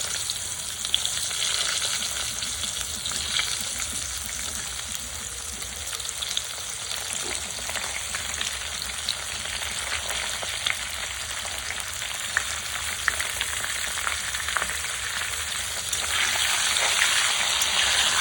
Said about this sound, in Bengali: আলুগুলো এরকম অর্ধেক করে কেটে নিয়েছি, আমি একটু ভেজে নেব।